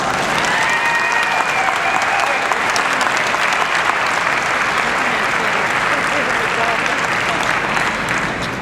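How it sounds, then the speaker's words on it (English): A large crowd applauds steadily, dense clapping that stays loud and even throughout, with a few faint voices mixed in. "would you give Mr. Frank Costella a nice round of applause?"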